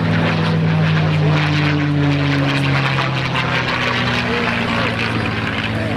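A propeller-driven aerobatic airplane, one of a formation team, rolls out and picks up speed, its engine droning loud and continuous with a rising, shifting tone as it passes close overhead.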